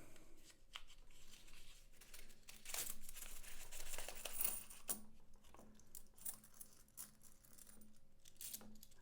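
Coins spilling from a loose mixed coin roll, with faint clinking and jangling of metal pieces tumbling and settling, plus scattered handling rustles, quiet and close.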